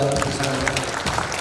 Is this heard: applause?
yes